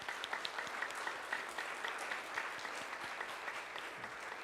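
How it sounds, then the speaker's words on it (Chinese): A church congregation applauds at a Sunday worship service in a steady burst of many hands clapping together, heard at a moderate distance with no talking. "我们再一次的拍手了"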